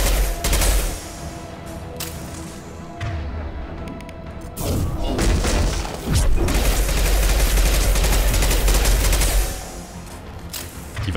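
Gunfire in the video game Mass Effect 2, with loud bursts of rapid weapon fire, crashing impacts and heavy thuds in dense battle clusters that ease briefly mid-way before the shooting resumes.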